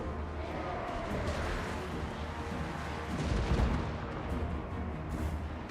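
Cannon and artillery fire rumble through a Total War Warhammer 2 battle, a dense barrage of booms and crashes with a louder burst near the middle, thick battle noise throughout.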